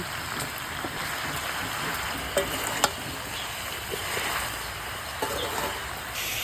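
Mixed vegetables with green chillies sautéed and stirred in a pan, giving a steady crackling sizzle with a few sharp clinks of the utensil, close by and without speech.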